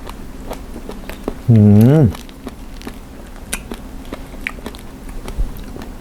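Whipped cream eaten with strawberry, soft close biting and chewing with wet smacks, broken by a brief loud hummed vocal sound, and a person talking intermittently.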